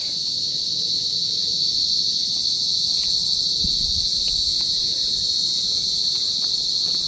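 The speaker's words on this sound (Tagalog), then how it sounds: "Mga kuliglig." Crickets chirp in a steady, high, continuous trill among garden plants and pine trees at Crosswinds in Tagaytay, with a faint low rumble beneath and no talking.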